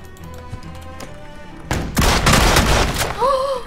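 A burst of rapid video game gunfire erupts after a quiet start, loud sharp shots in a dense volley with a thudding boom, followed by a short electronic tone.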